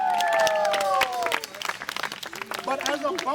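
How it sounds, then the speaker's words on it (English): An audience applauds at an outdoor forest magic show, clapping rising and settling amid crowd noise and some overlapping voices, ending with the host talking. "let's give them a big round of applause"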